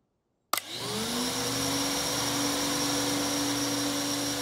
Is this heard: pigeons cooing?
no